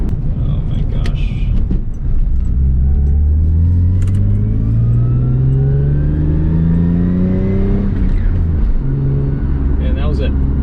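A Lexus IS300 accelerates hard up a freeway on-ramp, its engine note climbing steadily through the gears with a rising pitch and a shift around the middle, loud and close, while people talk briefly at the start and end.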